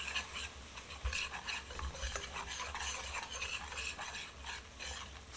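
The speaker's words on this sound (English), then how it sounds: "Stir it." Curry powder and turmeric being stirred into browned onion in a pan for Trinidad curry chicken, a steady scraping stir over a low sizzle with faint utensil clinks, continuous and close, no talking.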